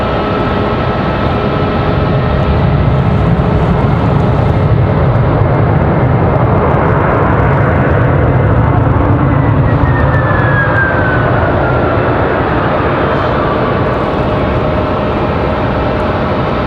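A passenger airplane lands at Raleigh-Durham International after a short hop from Greensboro, its engine roar loud and broadband throughout, holding steady with a slight swell and a faint whine sliding through the middle, no voices.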